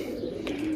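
Pigeons kept by a pigeon fancier coo softly nearby, one short low throaty coo standing out against faint background noise.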